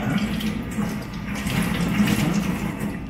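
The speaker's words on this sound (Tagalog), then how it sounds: "Eka, hugasan ko muna yung kamay." Steady running water from a tap as hands are rinsed clean of slimy hydro dipping film, a continuous close splashing rush with no pauses.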